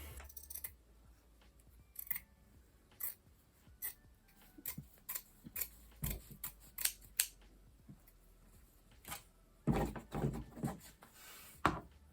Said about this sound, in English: So I'm just going to cut along the folds